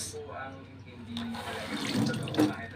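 Running water pours steadily from a tap, splashing into a cooking pot of squash and string beans nearby, while a voice speaks softly underneath.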